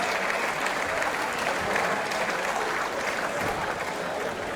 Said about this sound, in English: can you give back that prize round of applause, please?